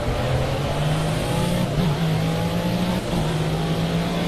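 McLaren race car engine in a racing video game on a mountain course, a steady high-revving drone held nearly constant with brief dips at gear changes, loud and continuous with no talk.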